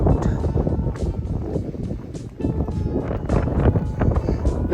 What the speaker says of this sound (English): little bit blustery up here